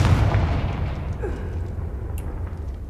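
A Confringo fire spell explodes in Hogwarts Legacy with a loud, deep boom that rolls and fades over a few seconds.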